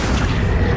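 An Accio spell cast in the video game Hogwarts Legacy, a short, loud, booming burst of low rumble lasting under a second with no voices.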